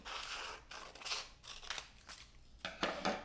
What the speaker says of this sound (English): hold the paper in one hand and scissors in the other, and just trim